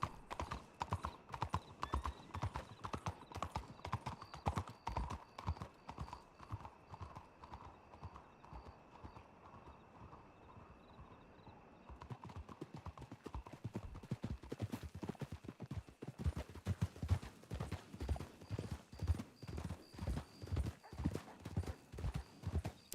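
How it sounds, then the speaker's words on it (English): Horse hooves clip-clop steadily in a video game, a continuous brisk gait that shifts its rhythm partway through and stays up close and clear throughout. "letting my horse and compass do the riding for a sec"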